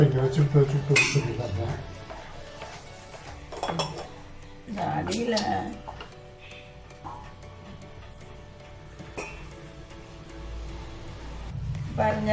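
Ragi and karupatti halwa being stirred in a metal pot, with scraping and clinking of a spoon against the vessel in bursts separated by quieter stretches.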